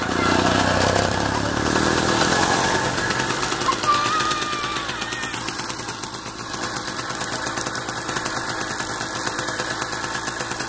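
A Riga 13 moped engine runs close by with a buzzy, uneven two-stroke putter that stays loud throughout and settles slightly as it idles.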